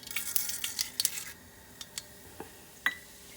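Mustard seeds and split urad dal crackle in hot sesame oil in a pan, a cluster of bright sizzling pops and spits early on, thinning to a few scattered sharp crackles, close and moderately loud with no talking.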